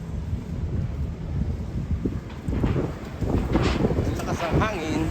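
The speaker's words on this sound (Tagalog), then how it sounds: "Ang lakas ang hangin." Strong wind roars and buffets the microphone beside a highway, a steady low rumble with gusts. A voice speaks over it partway through.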